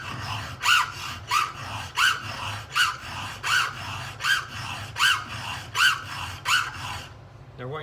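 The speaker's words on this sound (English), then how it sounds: "what you're hearing as I pull the file back is that the file is just kissing that raker as I'm coming back" A hand file drawn across the cutters of a Stihl 661 chainsaw chain, just grazing the raker on each return. About ten steady, rhythmic rasping strokes sound close and clear, with faint breathing between them.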